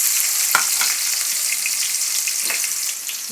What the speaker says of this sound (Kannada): ನಂತರ ಜೀರಿಗೆ, ಸಾಸಿವೆ ಹಾಕ್ತಾಯಿದ್ದೇನೆ, ಆಮೇಲೆ ಈರುಳ್ಳಿ, ಸ್ವಲ್ಪ ಈರುಳ್ಳಿ ಕಂದು ಬಣ್ಣ ಬರೋ ಹಾಗೆ ಸ್ವಲ್ಪ ಫ್ರೈ ಮಾಡ್ಕೊಳ್ಳಿ